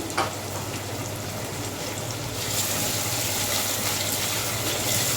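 One large chopped onion frying in oil in a pan, a steady hiss and sizzle that grows a little louder partway through, close and continuous without any talking.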